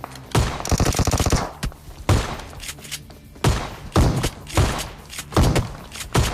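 Shotgun blasts from the mobile game PUBG Mobile Lite come as loud, close booms with rapid bursts of gunfire in between, several separate shots punctuating the few seconds.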